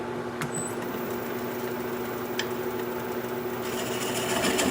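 A wood lathe spins at low speed while a small piece of wood is turned, giving a steady motorized whine and hum with faint scraping ticks, constant throughout and slightly louder near the end.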